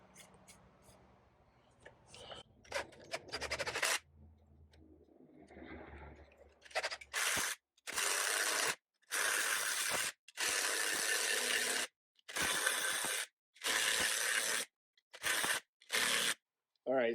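Ratchet wrench turning on a Yamaha Banshee front shock, a series of loud close ratcheting bursts with short pauses between strokes, preceded by brief talk and handling noise.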